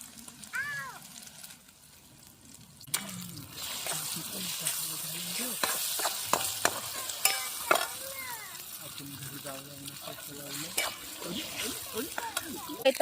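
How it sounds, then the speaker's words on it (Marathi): Ginger garlic paste fries in hot oil for a crab dish, a steady close sizzle with frequent stirring scrapes and clicks of a spoon against the pan, continuing throughout with faint background noises. "तेल वाचून घेते आता अदरक लसून पेस्ट टाकून घेते"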